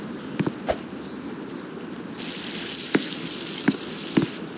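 Watering plants in the Roblox game Livetopia: a bright, hissing water spray starts partway through and runs steadily, loud and close, with a few short clicks before and during it and no speech.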